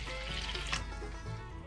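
Warm water is poured into a bowl holding sugar, salt and vinegar, giving a soft continuous splashing trickle that is close and quiet, with no voices.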